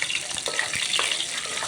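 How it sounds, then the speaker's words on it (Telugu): Mustard-type tempering seeds and cumin spluttering in 4 to 5 tablespoons of hot oil for gongura chutney, a dense steady hiss with rapid crackling pops, close and fairly loud, no voices. "చిటపటలాడేదాకా తీసుకుందాం."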